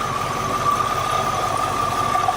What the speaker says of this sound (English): The idle's a little off, but it revs up smooth.